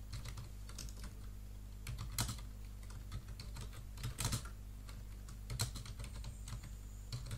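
Continuous computer keyboard typing while entering text in Microsoft Publisher, with a quick run of close key clicks broken by a few louder, heavier keystrokes at intervals.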